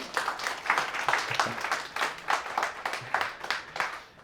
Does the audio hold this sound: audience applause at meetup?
yes